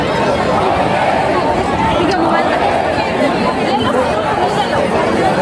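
Dense crowd chatter fills a busy street in Ujjain, a loud continuous babble of many voices close around, with speech from nearby people mixed in.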